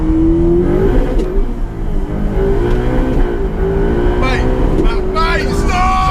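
A Ferrari 488 Pista accelerates hard, its engine note rising in a steady climbing harmonic over several seconds, loud and close from inside the cabin, with people talking excitedly over it.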